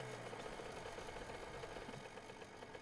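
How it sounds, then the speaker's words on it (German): A motorbike engine in the survival video game 7 Days to Die, running as a steady, droning mid-pitched idle with a slight rough vibration, continuous and fairly loud throughout with no talk over it. "Motorrad?"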